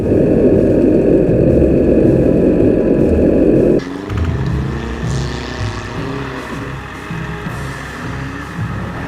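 A Soviet troop carrier vehicle in a WWII airsoft game drives past close by. A loud, rough engine drone drops off abruptly to a lower, fading rumble with rattling as it moves away.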